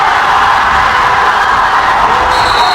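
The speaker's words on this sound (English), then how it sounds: "The Bulldogs crowd is getting very rowdy." A rowdy Bulldogs crowd at a boys' high school basketball game on the road: a dense, loud, steady roar of cheering voices that continues without break throughout.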